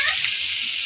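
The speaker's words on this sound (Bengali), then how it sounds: "এই যে আমার মশলাটা কিন্তু প্রায় কষা নিয়ে গেছে, উপরে তেল বাইছে উঠছে। এখন আমি মাংসটা দিয়ে লিয়াম" Desi chicken meat frying in spiced oil, a steady close hiss and sizzle filling the moment with no voices.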